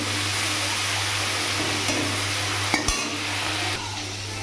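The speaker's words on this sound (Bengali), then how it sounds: "চিংড়ি মাছটা আগে ভেজে নিই" Prawns shallow-frying in hot oil in a pan, with a continuous close sizzle and a low hum throughout, broken by a couple of brief utensil clinks.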